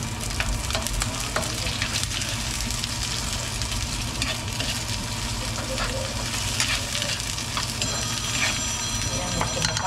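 Adobo frying in a pan in a home kitchen, a loud continuous sizzle with stirring and occasional clinks, close up, with a faint hum and distant television voices in the background.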